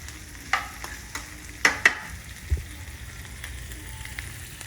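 Food cooking in a pan, with olives and sausage nearby, gives a soft steady sizzle broken by a few sharp clinks and scrapes of stirring, fairly quiet and without any voices.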